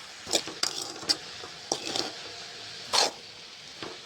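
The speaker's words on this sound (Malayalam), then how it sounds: "ഇങ്ങനെ ഇളക്കി കൊടുത്തുകൊണ്ട് നിൽക്കണേ" Spoon stirring cabbage in a cooking pan, scattered sharp scrapes and clinks against the metal with quiet gaps between them and no talk.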